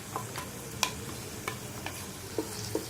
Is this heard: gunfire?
no